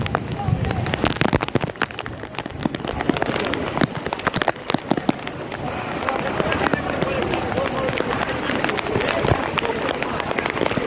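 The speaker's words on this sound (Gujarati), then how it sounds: "આવો કાંક સુરતનો વરસાદ છે." Heavy rain pours down in a Surat housing society, a dense, constant hiss and patter of drops hitting surfaces with occasional sharper splashes, while voices talk faintly beneath it.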